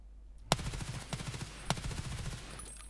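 Gunfire in the shooter Escape from Tarkov, several sharp close gunshots with rattling automatic bursts between them, loud and punchy against a low steady hum.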